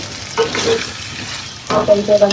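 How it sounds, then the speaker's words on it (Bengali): Potato curry (aloo dum) stirred in a pan, a spoon scraping through the potatoes in two short bursts with a soft sizzle of frying underneath, close and fairly loud. "এবারে আমি ঢাকনাটা উঠিয়ে তরকারিটা নেড়ে দেব।"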